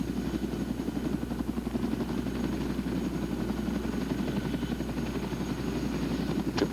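A Boeing CH-47 helicopter sitting on a slope, a steady loud rhythmic rotor thump over a continuous low turbine drone, close and unchanging throughout, no speech.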